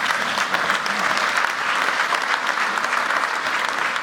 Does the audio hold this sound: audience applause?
yes